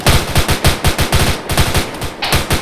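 Rapid automatic gunfire in the ARMA 3 military shooter game, a dense burst of loud, closely spaced shots firing steadily in quick succession for several seconds with no talk.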